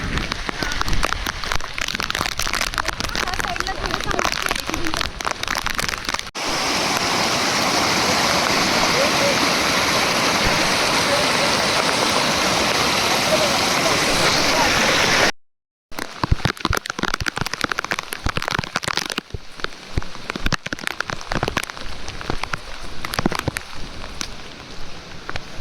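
Steady rain and small waterfalls rushing along a monsoon trek on Garbett Plateau, a dense continuous wash of falling and flowing water with a short break near the middle and some rougher bursts toward the end.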